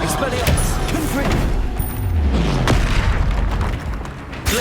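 Confringo blasting spell in the video game Hogwarts Legacy, loud booming explosions with rumbling low end and sharp bursts, layered under game combat noise and a voice.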